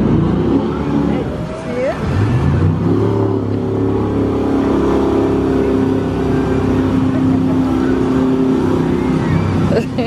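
A motorboat passes by near an aquarium on a beach trip, its steady engine drone holding loud and continuous throughout, with people chatting over it.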